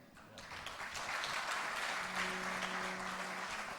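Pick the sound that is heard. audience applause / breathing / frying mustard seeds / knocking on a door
audience applause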